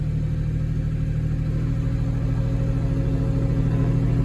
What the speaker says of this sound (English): while we're driving up here getting our trailer centered in the field